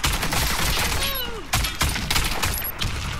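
Rapid bursts of gunfire from the Warface video game rattle on continuously, loud and close, with repeated clusters of shots and a few brief pauses, and no talking over them.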